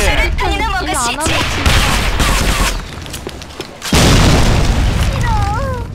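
A grenade goes off with a loud, sudden boom in the online shooter Sudden Attack, amid gunfire and game sounds, with voices heard before and after the blast.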